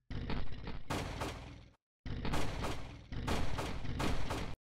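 Rapid bursts of sharp popping from a drift car's exhaust, several crackling volleys separated by a brief silence, loud and close, at a drift festival.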